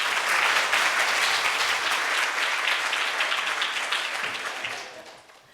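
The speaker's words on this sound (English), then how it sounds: "Big round of applause for Diane, please." A conference audience applauds a speaker introduced for a talk on HR failures: steady, full clapping from a sizeable crowd that holds for several seconds and then fades out.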